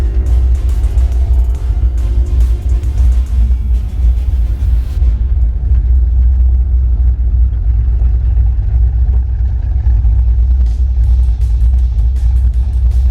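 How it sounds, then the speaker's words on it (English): Pontiac 350 V8 in a 1967 Firebird doing a burnout at a Willow Springs street drag event, a loud deep engine rumble with tire roar that eases off midway, continuous and close. "There's my burnout. A little bit of smoke coming out from the left side."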